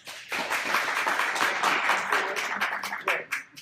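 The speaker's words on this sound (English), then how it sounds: "Give them a round of applause." Audience applause for two volunteers called up at a motivational talk, a short burst of clapping that swells quickly and then thins into scattered claps before fading.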